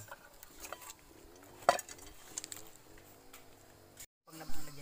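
Metal pots clank and scrape lightly against each other amid background chatter and room noise, with one sharper knock partway through.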